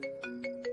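A phone ringtone plays as a short, repeating electronic melody of bright tone bursts, faint and lasting under a second.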